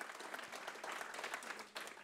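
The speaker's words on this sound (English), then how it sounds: "Can we give a very warm applause, Richard?" Audience applause for a speaker at an urban storytelling event, a steady, fairly quiet wash of many hands clapping throughout with a brief dip near the end.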